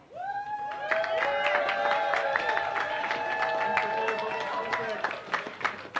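Crowd at the 54th Annual Agrifest opening day cheering and whooping for the Lieutenant Governor, a steady loud swell of voices and shouts lasting several seconds, with some talking mixed in.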